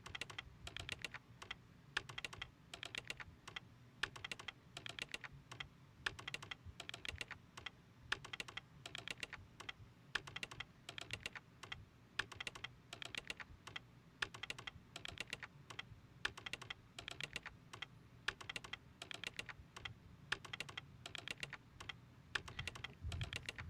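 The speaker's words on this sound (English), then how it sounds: "Listen to the rhythmic typing." Rhythmic keyboard typing from the video game Parasite Eve plays as an even, evenly spaced run of light key clicks, steady and moderately faint throughout with no talk over it.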